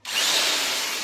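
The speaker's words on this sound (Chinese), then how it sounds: "为大家来一个电钻生苞米豆" An electric drill whirs loudly at high speed as a corn cob spins on its bit, a steady, harsh grinding buzz that starts abruptly and holds at close range.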